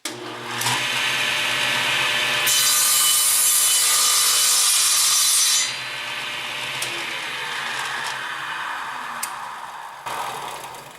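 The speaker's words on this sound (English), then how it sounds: "And now, I need to slice a board that will be my 0 point." A saw blade cuts a thin wooden board in a workshop. The whine is loud and steady, louder for a few seconds in the middle, then settles to a lower grinding rush. A few sharp ticks come near the end.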